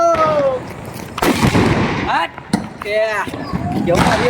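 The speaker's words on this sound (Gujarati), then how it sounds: "ફાઇનલી મિત્રો આપણે આવી ગયા છીએ મરચી બોમ્બ ઉપર." Mirchi bomb firecrackers blast during a Diwali celebration, several sharp, loud explosive bangs with crackling tails, interspersed with excited voices and shouting between the blasts.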